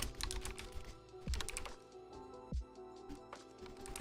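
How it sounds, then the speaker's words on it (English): Computer keyboard typing into a live-stream chat, a quick irregular patter of close key clicks with a couple of heavier thumps, soft background hum underneath and no talking. "So, I'm typing it in the chat."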